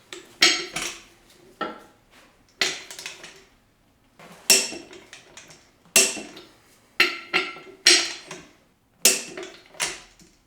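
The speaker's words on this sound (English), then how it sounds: "use a torque wrench like this" A torque wrench tightens wheel studs to 90 foot-pounds during a Ford 8.8 axle job, producing repeated sharp metallic clicks and ratchet clatters in irregular bursts, close and alone.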